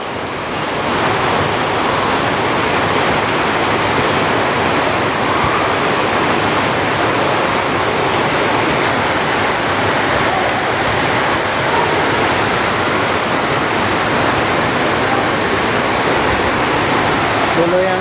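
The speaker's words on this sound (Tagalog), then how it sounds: "Grabe yung ulan mga idol. Oh, lakas ng ulan." Heavy rain pours down steadily over a flooding area, a loud, dense, unbroken hiss of water that holds constant from start to finish.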